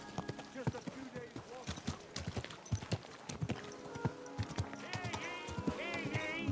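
Horse hooves clip-clop at a walk in the medieval video game Kingdom Come: Deliverance 2, a steady close rhythm of sharp knocks, with the horse snorting and soft game ambience underneath.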